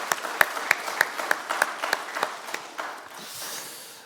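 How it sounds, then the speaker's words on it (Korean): A church congregation at a Sunday worship service claps, beginning with a run of distinct, fairly loud claps at a steady beat that loosens into a softer, fading patter. "우리 감사와 응원의 박수 함께 하도록 하겠습니다"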